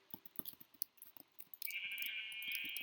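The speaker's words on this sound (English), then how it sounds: "Let's spawn in like 4 sheep." Sheep bleating in a Minecraft game, several short bleats over a scattering of small clicks and taps, then a steady high hiss or whoosh that takes over for the last second or so.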